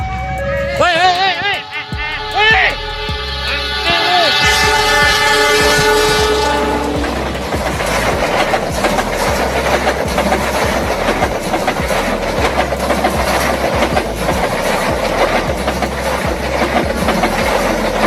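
A passenger train bound for Malang crossing the Jalan Laswi level crossing in Bandung, opening with loud horn blasts and then a heavy, close rumble of wagons rolling past with rhythmic wheel clatter.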